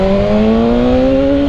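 A 2018 BMW S1000R motorcycle, still being run in, accelerates hard with quickshifter upshifts, its engine note a loud, steadily rising whine, close up and unbroken, with no talking.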